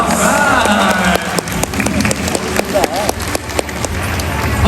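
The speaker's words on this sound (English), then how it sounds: "let's give her a nice round of applause" Audience applause for a volunteer at a Mandai Zoo show in Singapore, a dense crowd of clapping hands rattling steadily throughout, with a voice speaking over it.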